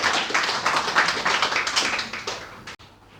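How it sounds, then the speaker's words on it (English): A room full of people at an English language institute event clap briskly in a dense burst that thins out and stops abruptly near the end, leaving quiet room tone. "I would like to say a big round of applause for our Sir NA Saqib"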